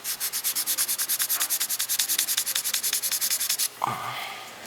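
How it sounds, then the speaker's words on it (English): Steady rhythmic sanding of a plastic model kit, about three rapid strokes per second, close and loud, stopping abruptly near the end before a brief knock. "I've just been also busy sanding this down as well."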